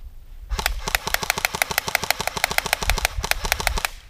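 A BB gun fires semi-automatic at Crosman targets, cracking off roughly two dozen sharp, evenly spaced shots over about three and a half seconds, loud and close, with brief impact clicks among them and no talking.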